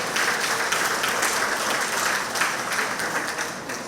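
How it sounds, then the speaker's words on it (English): A meeting audience in a community centre room applauds itself, dense continuous clapping from many people filling the space and tapering off at the end. "Give yourself a round of applause."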